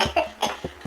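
Four short coughs in quick succession, close and fairly loud, with brief gaps between them.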